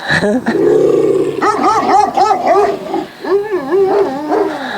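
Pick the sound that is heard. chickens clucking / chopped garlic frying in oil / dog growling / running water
dog growling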